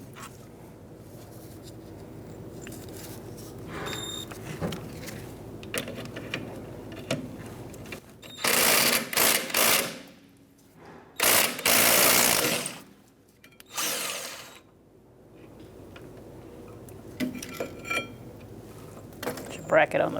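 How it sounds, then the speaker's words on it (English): A ratchet with a 14mm swivel socket turns a bolt on the brake of a 2010-2013 Kia Soul. Several short bursts of clicking ratcheting are separated by quiet gaps, and someone talks intermittently between them. "I'm going to use a 14mm swivel socket."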